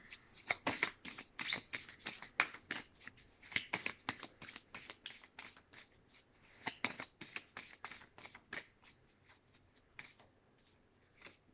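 Oracle cards being shuffled by hand, a quick run of crisp papery riffles and taps that is close and fairly loud, slowing and thinning toward the end, with no talking.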